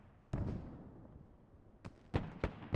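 Artillery fire in a Squad match lands as a few separate booming blasts: one loud hit, then a quieter stretch, then three sharp reports in quick succession near the end.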